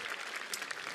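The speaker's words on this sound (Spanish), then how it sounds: "gracias por su aplauso" A brief burst of dense audience clapping at a Teletón charity comedy performance, steady and fairly loud for under a second with no talk over it.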